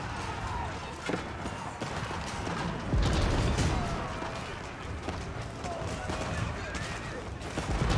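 Bombards and other gunpowder units firing in an Age of Empires 4 battle, giving a dense, continuous clatter of shots and booms under constant busy battle noise, with a commentator talking over it.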